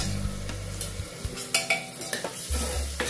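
Spices with turmeric frying in a pan for black chickpea curry, a soft continuous sizzle broken by spoon clinks and stirring scrapes, with a low hum at times, no voices.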